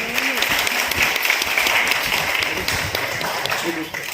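Audience applause at a Teachers' Day library event, welcoming dignitaries onto the stage. The clapping is loud and sustained throughout and fades slightly toward the end.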